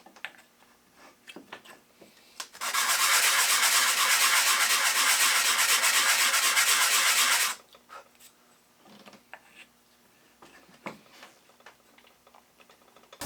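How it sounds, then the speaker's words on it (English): Wooden splines are rubbed by hand on a sheet of 80 grit sandpaper, making a loud, steady gritty scraping that runs for about five seconds between quieter workshop handling noises. "I'm just sanding them here on a piece of 80 grit sandpaper just to get a snug fit."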